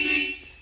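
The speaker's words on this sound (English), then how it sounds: "Has a beep beep horn" A classic Toyota Land Cruiser's horn gives a single short, bright electric beep, loud and close, trailing off within a fraction of a second.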